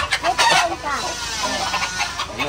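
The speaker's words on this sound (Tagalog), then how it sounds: "Kanino yung manok?" Chicken clucking close by, a string of short throaty clucks and squawks in quick succession, with people talking around it.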